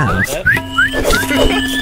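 A whistle item used in a modded Minecraft game gives several short rising chirps in quick succession, mixed with voices talking over it.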